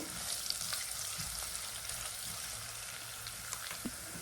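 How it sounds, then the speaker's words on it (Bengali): Crushed garlic, pounded in a mortar and pestle, fries in hot oil in a home kitchen, giving a faint, steady sizzle with light crackles and no talking. "সেই রসুনটাকে আমি কিন্তু ছেঁচে নিয়েছি হামান দিস্তার মধ্যে তো এটাকে আমি এখন একটু ভাজা ভাজা হতে দেবো"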